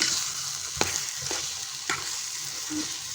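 Curry being stirred in a stainless steel kadai, a steady frying sizzle broken by a few sharp scraping strokes of the spoon against the metal, close and fairly loud with no talking.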